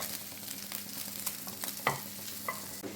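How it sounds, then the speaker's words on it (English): Guanciale sizzles softly in a pan as a utensil stirs and scrapes it in a few scattered strokes, close by and with no voices. "while the guanciale is cooking and the pasta water is boiling"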